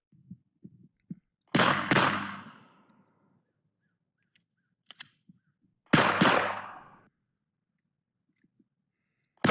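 Two loud, sharp gunshots ring out about four seconds apart during cold-weather shooting practice, each trailing off in a brief echo, with small clicks and handling noises from drawing and reloading between them.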